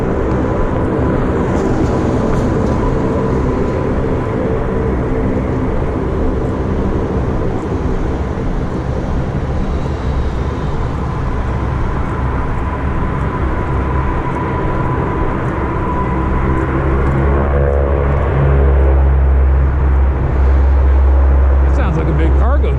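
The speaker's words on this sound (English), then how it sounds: "That sounds like a big cargo jet." A big cargo jet passes overhead, a loud broad rumbling roar that holds steady and then swells deeper toward the end, while someone talks over it.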